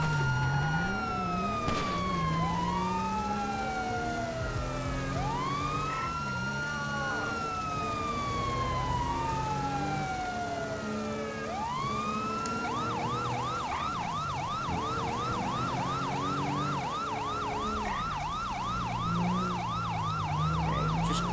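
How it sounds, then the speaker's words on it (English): Police sirens in the video game LSPDFR (GTA V), responding code 3. Several loud, close sirens overlap, sweeping wails that change partway through to a rapid yelp, over steady traffic rumble. "Code 3 sirens don't mean much to some people in this area"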